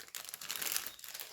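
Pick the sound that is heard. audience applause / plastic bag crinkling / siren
plastic bag crinkling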